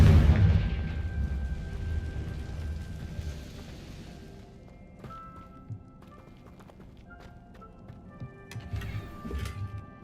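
Confringo blasting curse going off in Hogwarts Legacy, a loud burst at the start that rumbles and fades over a few seconds, followed by quieter in-game clinks and effects.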